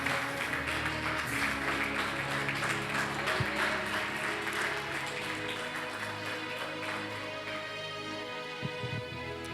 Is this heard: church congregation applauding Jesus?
yes